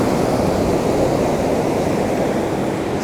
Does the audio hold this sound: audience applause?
no